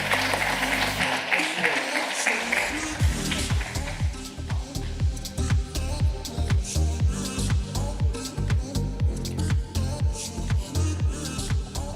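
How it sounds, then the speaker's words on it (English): Applause from an awards-ceremony audience for a company CEO, beginning as a dense wash of clapping and settling into loud, rhythmic, fairly close hand claps that continue steadily throughout. "please give a round of applause for our CEO, Leila Fourie."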